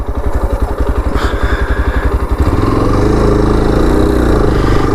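Yezdi Adventure motorcycle engine pulling in third gear, a loud, close throbbing exhaust note that starts with a pulsing beat and then rises into a steady, continuous drone as it accelerates, with no talk.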